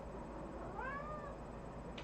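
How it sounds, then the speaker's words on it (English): A cat lets out a single drawn-out meow at moderate distance over a steady low background hum, with no speech. "And then there's this cat over there."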